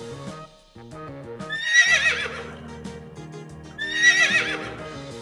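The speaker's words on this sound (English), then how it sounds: "This is horse." Horse neighing twice in loud whinnies, with a clip-clop rhythm of hooves between them, heard alone as a toddler animal puzzle toy sound.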